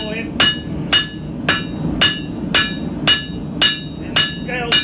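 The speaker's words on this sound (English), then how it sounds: "I'm going to hammer the bevel in" Hot forged knife steel takes the bevel under a hammer, about nine sharp ringing blows at an even, steady rhythm. They are close and loud, over a low forge rumble.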